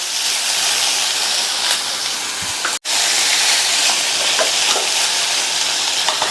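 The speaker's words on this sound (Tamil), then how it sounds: "இந்த தக்காளியும் வதங்கி வரட்டும்." Tomatoes sauté in a pan for a cauliflower peas masala, with a loud, steady sizzle and hiss, occasional stirring clicks and a momentary break partway through.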